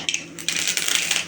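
Quick, sharp crackles and tiny pops spatter in bursts over a sizzling hiss, close and fairly loud, as mustard seeds burst in hot oil.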